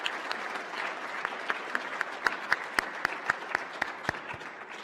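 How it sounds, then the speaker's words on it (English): Applause at a NASA Apollo 17 50th anniversary celebration, a dense round of clapping with distinct louder individual claps standing out in a fairly regular rhythm, steady for several seconds. "Just please join me in a warm round of applause for those who made this possible."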